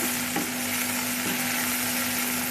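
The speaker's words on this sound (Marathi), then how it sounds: "1 मिनिटभर फ्राय करून घेऊ." Tomatoes fry in a pan with a steady, close hiss of sizzling oil and faint scraping stirs, no voices.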